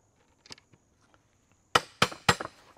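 Hammering a carriage bolt through wood while building a sawhorse: three sharp, loud close strikes in quick succession after light quiet handling taps.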